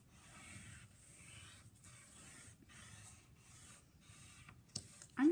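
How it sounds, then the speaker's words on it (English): A pencil draws sunflower petals on paper, a soft, close scratching in repeated short strokes, with a brief louder knock near the end. "So I'm drawing some petals behind."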